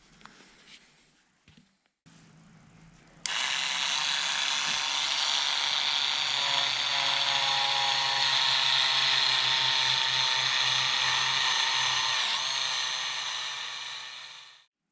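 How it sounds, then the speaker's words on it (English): A Dremel rotary tool with a wire wheel whirs loud and steady for about eleven seconds, scrubbing rust off the starter magnets of a Willys Jeep, after brief handling clatter, then spins down. "So I'm going to take this Dremel tool with a wire wheel and try to get down in here the best I can and clean those up"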